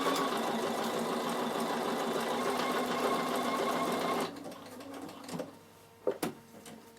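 A Bernina sewing machine runs steadily while stitching a fabric storage box, a fast, even mechanical whir that stops partway through, followed by a few quieter clicks and handling knocks.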